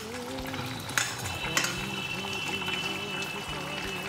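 Fried potatoes are tipped into Bengali-style chicken curry in a kadai. Frying sizzle and spoon stirring scrape along, with a couple of sharp clinks and faint talk underneath.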